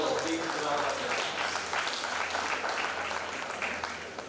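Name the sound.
applause at conference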